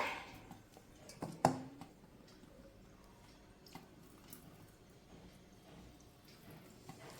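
Excess water tips out of a pot in one brief splash, followed by faint trickles and drips in an otherwise quiet setting.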